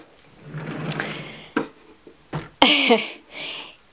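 A drawer slides open with a short wooden scrape and clunk, followed by a few light knocks and rustles of items inside.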